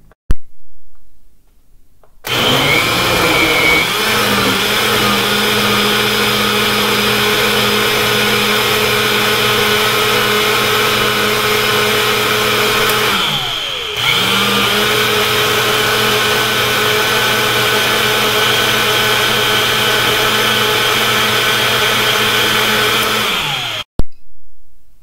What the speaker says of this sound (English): I am going to mix the water and the pineapple chunks all